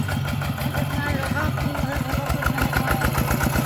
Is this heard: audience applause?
no